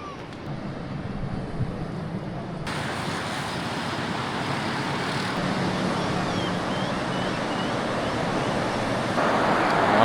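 A continuous, rushing roar of strong surf breaking on a beach in Lima, Peru, with wind noise, growing slightly louder toward the end, with no clear speech.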